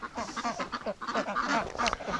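A small duck on a breeding farm quacking repeatedly in a rapid, chattering series of nasal calls, fairly close and steady throughout.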